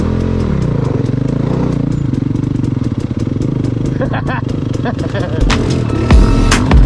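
A new dirt bike engine idles close by with a steady, throbbing mid-pitched rumble, bursts of clicking and clatter near the end, and a person talking over it.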